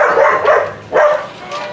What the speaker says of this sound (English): Some may think it could be the barking dogs.